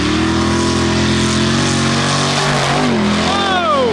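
A side-by-side with a swapped Hellcat Demon engine launches hard on dirt, a loud, close roaring engine climbing steeply in pitch as it accelerates, with faint voices under the noise.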